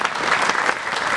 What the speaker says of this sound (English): that was both applause for adoption and for John Astin